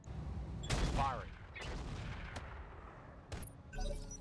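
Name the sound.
mech weapons firing in RogueTech BattleTech video game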